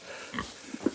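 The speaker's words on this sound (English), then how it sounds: "there's definitely a pig in here" Pig grunting in straw at an animal sanctuary, a few short, soft low grunts close by, growing toward the end with a faint rustle between them.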